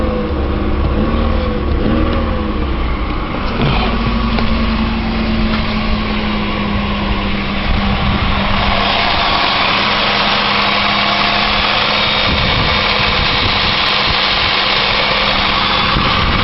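A 2001 Chevrolet Malibu with high mileage settles into a steady idle after a cold start, a loud, close engine drone with a constant hum throughout.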